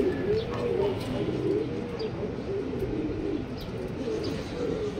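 Racing pigeons at a club training release in Luisiana, Laguna coo steadily in a low, soft rolling drone that continues without pause, with faint outdoor background sounds.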